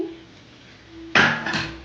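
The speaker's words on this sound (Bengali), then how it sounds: "এবার ঢাকনা খুলে দেখছি।" A metal pot lid lifts off with a sudden clatter and scrape, followed by a burst of sizzling from a pan of frying bottle gourd.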